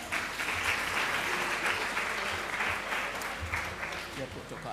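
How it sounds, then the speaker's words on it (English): Audience applause at a teachers' college research day event, a steady wash of many hands clapping throughout, moderately distant in a hall. "Clap, Arna."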